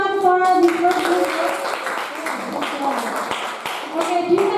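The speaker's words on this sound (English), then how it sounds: "Give applause everyone for this work." A classroom of students claps for a classmate's work in a school lesson, brief scattered clapping mixed with a teacher's talk and sustained sung or hummed tones from the room.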